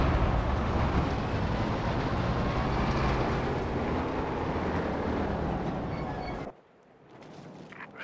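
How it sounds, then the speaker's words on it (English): A Katyusha rocket launcher firing in Company of Heroes 2, a dense, loud roaring rush lasting several seconds that cuts off abruptly near the end, with no talk. "Katyusha right out the back."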